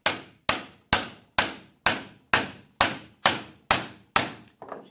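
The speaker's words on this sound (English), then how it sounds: "Now, instead of taking off a sliver, that chisel is just going to bury itself." Ten sharp, evenly spaced blows of a mallet on a chisel chopping into wood held in a vise, each crack ringing briefly and decaying, close and loud, the last strike softer.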